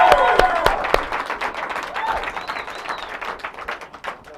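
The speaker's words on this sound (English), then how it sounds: "Hey, one more round of applause for the ALA guys." An audience applauds at a live company call event, with dense clapping from a crowd that fades gradually over a few seconds while voices talk over it.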